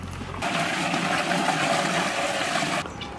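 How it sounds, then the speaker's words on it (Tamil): Water gushes into a cooking pot to boil rice for a quail biryani, a loud continuous pour lasting a couple of seconds that stops abruptly near the end, with no one talking. "பிரியாணிக்கு சாப்பாடு வடிக்கிறதுக்கு உல வைக்க தண்ணி ஊத்திக்கலாம்."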